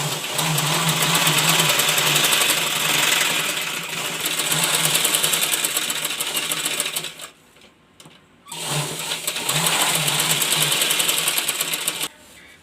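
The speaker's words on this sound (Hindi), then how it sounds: "फिर इस तरह से हम सिलाई लगा लेंगे" A sewing machine stitching a baby langoti at home, running in long steady whirring bursts with a brief stop partway, close and loud, no speech.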